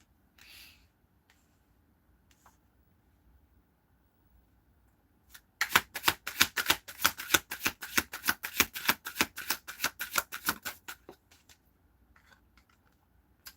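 A deck of tarot cards being shuffled, a rapid run of crisp riffling clicks lasting several seconds, close and fairly loud, after a quiet stretch with only faint background sound.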